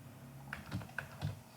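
Code is typed on a computer keyboard in quick, close, soft keystrokes, roughly four or five taps in a brief burst, with no voice over them.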